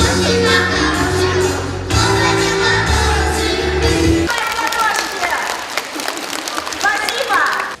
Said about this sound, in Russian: Да и как тут не хлопать?